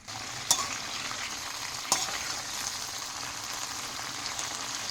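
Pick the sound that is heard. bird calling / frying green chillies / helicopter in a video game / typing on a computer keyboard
frying green chillies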